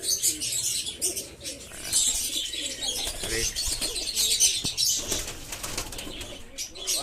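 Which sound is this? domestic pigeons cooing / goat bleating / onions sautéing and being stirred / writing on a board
domestic pigeons cooing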